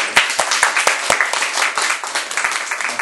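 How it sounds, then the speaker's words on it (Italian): An audience applauds at a literary conversation event, a sustained patter of many hands with several sharp, distinct claps standing out near the listener throughout. "Facciamo un applauso."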